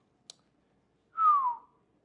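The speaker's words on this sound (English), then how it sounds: "Yeah, I whistled." A person whistles once inside the living room of a luxury home, a clear, sustained tone that slides downward and then stops, preceded by a brief faint click.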